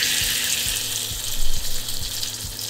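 Fish fillet, skinned sea bream, pan-frying in a preheated frying pan, giving a steady bright sizzle with faint clinks and taps underneath; no talking.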